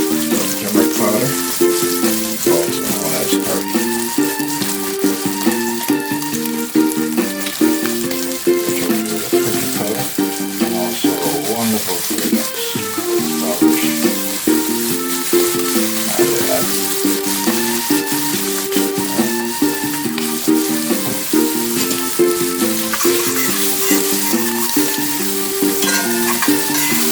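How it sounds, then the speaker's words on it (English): Ackee and saltfish cook in a pan over a low flame, giving a steady, close sizzle and bubbling with occasional stirring, continuous throughout and with no talking. "turn the fire low and let it simmer down"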